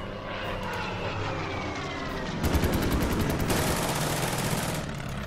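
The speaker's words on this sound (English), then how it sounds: "My fighters are starting to run low on fuel, but they can do one last shot here." Fighter planes fire their guns in a WWII strategy game, with loud continuous aircraft engine drone and a burst of rapid machine-gun fire in the latter half, no talking.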